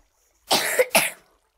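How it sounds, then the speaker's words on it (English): Two quick, close coughs from one person, sharp and dry, heard alone against silence. "Pardon me, I have a little cough these days because of lockdown."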